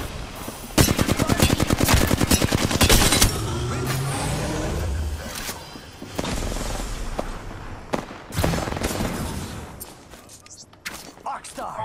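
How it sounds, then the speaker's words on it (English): Rapid automatic gunfire in the online shooter Apex Legends, loud and close in dense bursts over the first few seconds, then scattered shots and impacts amid game sounds and some talk. "Shoot him when he comes."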